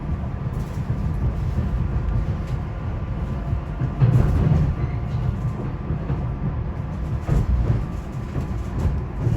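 A SEPTA regional rail train rumbles along the Chestnut Hill West line, a steady loud low drone from the head end with occasional clunks over the rails.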